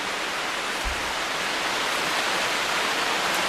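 Water flows steadily through an aquaponics system fed by a solar-powered pump, a dense, even rushing hiss held at constant level, close and uninterrupted.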